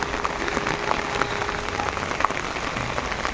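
Steady rain falls outdoors, pattering on surfaces and on a covered car, with a dense, even hiss and scattered close drops throughout.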